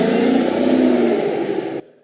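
Engine of the oil truck in the Curious George truck-driving game: a loud, steady mid-pitched motor whir that holds evenly, then cuts off abruptly near the end, with no talking.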